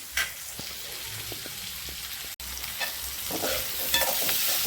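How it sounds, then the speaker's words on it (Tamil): Onions sauté in a pan with a steady, close sizzle, while a spoon stirs and scrapes at intervals. "கொஞ்சம் வதங்கட்டுங்க வெங்காயம்."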